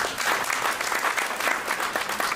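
Applause from an audience for Mr. Henry Sura at an International Domestic Workers Day event, a dense, continuous burst of clapping from many hands, fairly close and steady for a couple of seconds.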